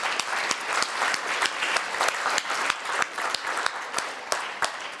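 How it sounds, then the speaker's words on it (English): An audience at a children's summit applauds warmly, with dense, steady clapping from a nearby crowd that continues for several seconds. "I think we should applaud our commissioners for taking this brave new step"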